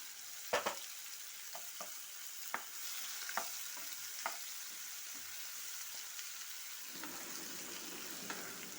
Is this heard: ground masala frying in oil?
yes